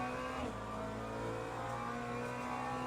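A race car engine in iRacing accelerates out of turn 2, a steady loud droning whine that climbs slightly in pitch, close and continuous with no talking.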